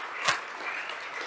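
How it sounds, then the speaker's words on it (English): Applause from a conference audience, a dense patter of clapping held at a steady, moderate level with one sharper clap near the start. "Can I have a massive round of applause for her?"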